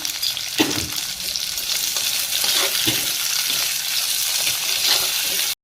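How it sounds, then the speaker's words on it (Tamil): Small onions sauté in a pan with salt, a steady loud sizzle and frying hiss running throughout with occasional stirring scrapes, ending abruptly. "நல்லா ப்ரௌன் கலர் வர்ற வரைக்கும் நல்லா வதக்கிக்கணும்"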